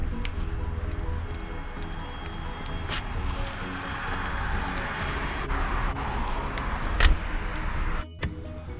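A VW Beetle driving away outside Percy's Service Station in Madison, its engine a steady low rumble under broadband traffic-like noise, with a couple of brief clicks and a short gap near the end.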